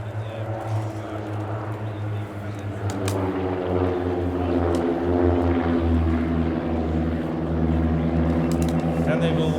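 Propeller aircraft of the Royal Norwegian Air Force Yellow Sparrows formation fly past at the RIAT 2024 air show, a steady droning engine note that swells louder as the formation approaches.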